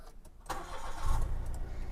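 A 2012 Mitsubishi Mirage 1.2 engine cranks from a push-button start and catches, then settles into a low, steady idle rumble, fairly quiet with no talking.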